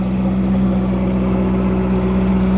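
A Ferrari 488 GTB engine runs close by in a steady, even hum with a strong tonal drone, holding a constant level without a clear rise in revs.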